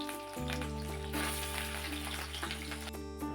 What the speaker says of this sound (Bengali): তাতে আমি 3 টেবিল চামচ পরিমাণে সর্ষের তেল দিয়ে দিয়েছি। তেলটা এবার গরম হয়ে গেছে। আমি মাছগুলোকে আগে ভেজে নেব।